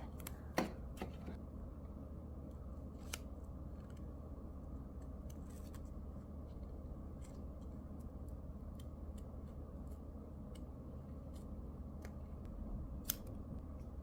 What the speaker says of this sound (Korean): 재단해 보겠습니다.